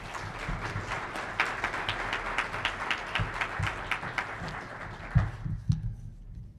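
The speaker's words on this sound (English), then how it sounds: "I want to give all the candidates before you this evening a big round of applause" Moderate audience applause for candidates at a community forum, a scattered, fairly quiet patter of clapping that thins out and fades near the end.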